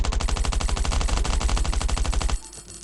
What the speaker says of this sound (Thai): แล้วก็ใช้ปืน